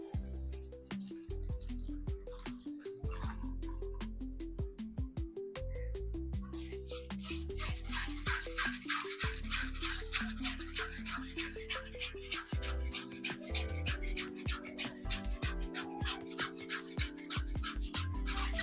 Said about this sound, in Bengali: এটাকে ছাঁকনির সাহায্যে ছেঁকে নিচ্ছি।